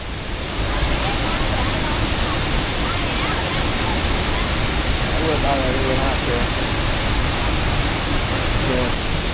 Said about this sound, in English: this is Hilsawat waterfall at Khao Yai National Park